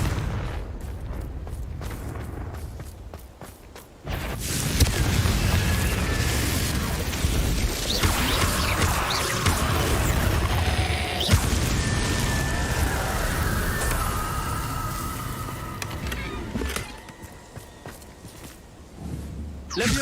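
A Confringo fire spell blasts in Hogwarts Legacy, with a heavy, roaring, crackling burst surging up after a brief dip and churning loudly for many seconds amid scattered impacts before easing off.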